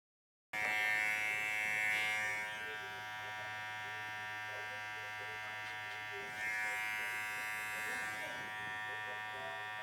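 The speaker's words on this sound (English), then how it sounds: "clipper's burning up over here" Electric hair clippers buzz steadily and close up during a barber's haircut, a continuous whining hum that dips slightly partway through as they work around the head, with no voices over it.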